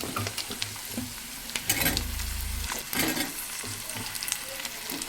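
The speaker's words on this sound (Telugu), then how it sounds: "ఇప్పుడు కడిగి పెట్టుకున్న ములక్కాయల్ని అందులో వేసేద్దాం." Washed drumsticks going into a sizzling tomato curry in a pan, with loud frying hiss, stirring scrapes and a brief low bubbling burst, close and continuous without speech.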